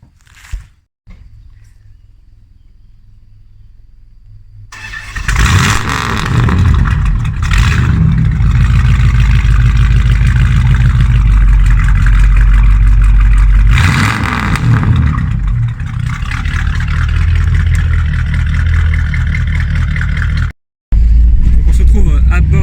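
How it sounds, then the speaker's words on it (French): A 1979 Chrysler Cordoba 300 with a 5.9-litre V8 cranks and fires up after a quiet start, then rumbles loudly and revs while driving on the road, with brief talk mixed in and a short dropout near the end. "on va pouvoir démarrer la voiture et puis faire un petit tour pour apprécier quand même le cœur de la bête"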